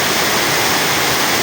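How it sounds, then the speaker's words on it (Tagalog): Pidwaan Falls pouring down in a steady, loud, close rush of gushing water, a dense unbroken roar with no voices. "Ayan o, bumubulbak ang tubig dun o."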